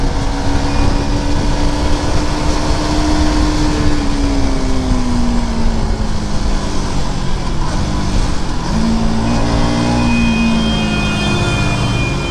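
A car on a congested Indian road revs its engine beside a motorcycle, producing a steady engine drone with rising and falling tonal whine, heard amid continuous traffic and wind noise.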